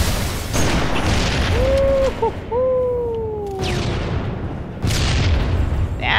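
A sniper rifle shot booms loudly in the shooter Halo MCC, followed by rolling echoes and further heavy blasts amid dense game noise and whooshing tones.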